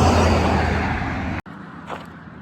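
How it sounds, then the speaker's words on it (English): Car traffic passing beside a road, a loud rushing swell of a nearby vehicle that cuts off abruptly, leaving quieter ambient noise afterward. "Sorry, lots of car noise."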